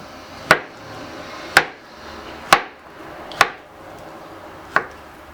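Five sharp knife chops through fruit striking a cutting board, evenly spaced about a second apart, close and crisp with quiet pauses between.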